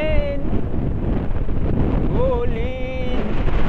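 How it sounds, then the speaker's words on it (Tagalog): Strong wind roars and buffets the microphone steadily during a scooter ride, with a voice briefly rising in the background. "sobrang lakas ng hangin"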